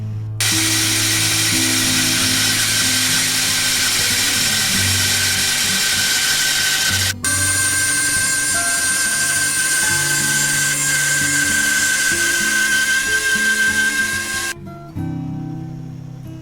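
Power saw cutting through the end of a wooden 2x4 for a guitar build along a pencil line, a loud continuous whine with pitch shifts, one brief break around seven seconds, then stopping near the end.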